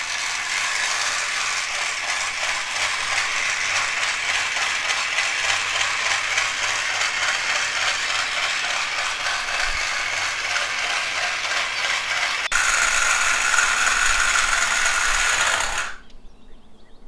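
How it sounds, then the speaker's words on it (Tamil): A miniature toy kitchen machine kneads pizza dough with a loud, continuous rattling, ratchet-like mechanical whirr that runs steadily, grows slightly louder near the end, then cuts off abruptly, with no voices. "மிஷினில் மாவை பிணைஞ்சிக்கலாம். மிஷினை ஆன் பண்ணிக்கலாம்."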